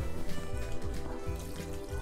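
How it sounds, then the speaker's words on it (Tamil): Water poured into a small cooking pot of mutton kuruma in a caravan kitchen, a steady close trickling fill with a busy, continuous wash of liquid sound. "தண்ணி கொஞ்சம் ஊற்றிக்கலாம்"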